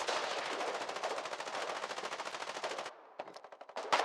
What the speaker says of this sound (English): They got an MG over there.